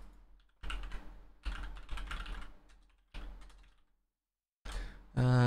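Rapid bursts of typing clatter on a computer keyboard as a server IP is re-entered for SCP: Secret Laboratory, several quick runs of keystrokes separated by pauses, close and crisp, with a louder tonal sound at the end.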